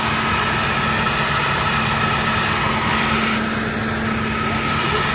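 A city bus engine idles with a low, steady rumble in Philadelphia street traffic, continuous and close, with faint traffic noise around it and no clear voices.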